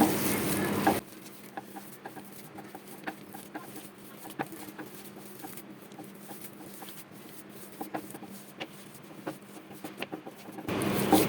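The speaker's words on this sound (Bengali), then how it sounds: "আমি এখন এগুলোকে খুব সুন্দর করে মাখিয়ে নেব" Fish kebab mixture being worked by hand with kebab spice, giving soft, wet squelching and clicky stirring noises in a steady, close, quiet rhythm with no talk.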